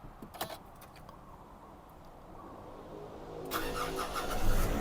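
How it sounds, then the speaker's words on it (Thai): Keys jingle, then after a quiet pause the engine of a 2019 Nissan Navara Calibre 2.5V automatic pickup truck cranks and starts up nearby, settling into a steady idle rumble. "นี่ครับเสียงเครื่องยนต์ยังปกตินะ"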